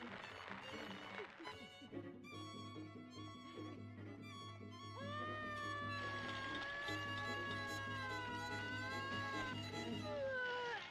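A cat meows repeatedly in long, drawn-out, wavering cries that grow louder and more insistent in the second half, close by, with a low steady hum beneath.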